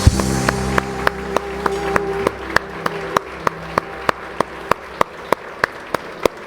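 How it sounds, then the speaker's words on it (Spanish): A church congregation claps in a sharp, evenly spaced rhythm, each beat crisp and regular over a soft background, while a lingering tone fades out at the start. "Dale un fuerte aplauso al Señor"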